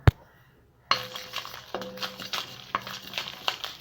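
Red chillies, fennel, cumin, cinnamon and cloves are dry roasted in a kadai without oil, with a ladle scraping and clinking against the metal pan in quick irregular strokes, close and fairly faint.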